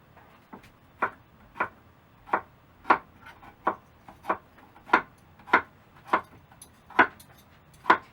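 A knife chops carrots into circles on a cutting board for borscht, a steady run of about fourteen crisp, close knocks spaced roughly half a second apart, with no talking.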